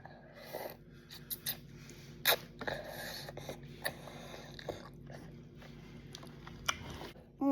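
Close chewing and biting of spicy ramen noodles: soft crunchy bites and wet mastication at an irregular pace, with a few sharper clicks over a low background hum and no talking.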